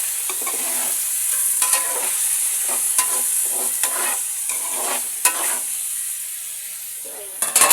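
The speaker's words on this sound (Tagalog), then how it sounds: "And then, haluin natin." Food sizzles in an oiled pan while a spoon stirs it, loud hissing broken by repeated scraping strokes at irregular intervals and a few clattering knocks toward the end.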